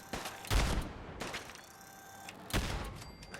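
Video game gunfire during a firefight: two heavy, booming shot bursts about two seconds apart, loud and close, with a fainter crack in between and no talking.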